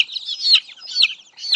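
A native chicken chick held in the hand gives high, thin peeping chirps in three quick bursts, close and fairly loud, with no talk.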